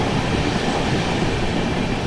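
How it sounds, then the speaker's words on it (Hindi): 12555 Gorakhdham Superfast Express running at speed, a steady loud rumble of wheels and carriage noise heard from on board, continuous throughout without talk. "काफ़ी तेज़ रफ्तार में जो है गाड़ी अपनी चल रही है।"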